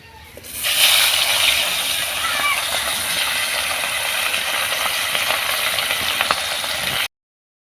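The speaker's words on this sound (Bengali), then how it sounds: "এবার এই তেলের মধ্যে মাথাটাকেও ভালোভাবে ভেজে নেব।" A pomfret fish head drops into hot oil and fries with a sudden loud sizzle, then a steady close hiss with faint crackles and occasional rattles before cutting off abruptly.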